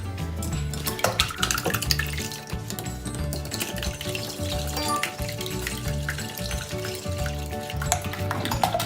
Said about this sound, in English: Maybe give those a whisk up with this whisk.